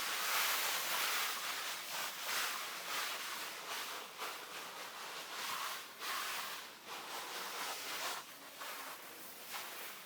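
A garden hose sprays water steadily over oyster mushroom growing beds, a broad continuous hiss of falling water with slight surges and dips, close and fairly loud throughout.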